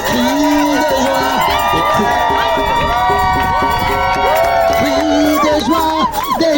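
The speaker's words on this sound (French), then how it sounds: "Alors plus de cris de joie" A crowd shouting and cheering with joy amid a Christian worship song, with loud layered voices and whoops carrying continuously over the music.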